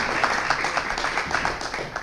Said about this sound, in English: Round of applause for Kelly.